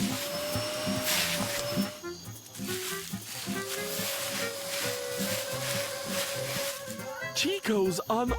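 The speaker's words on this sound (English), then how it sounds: "Chiko's unaware of the vacuum cleaner that's, Hiding in the grass." A cartoon vacuum cleaner hidden in grass whirs in a steady, loud drone throughout, with music and sound effects layered over it.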